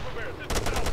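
Gunfire in ARMA 3 breaks in halfway through after a stretch of muffled game noise: a rapid, loud volley of several close shots in quick rhythm.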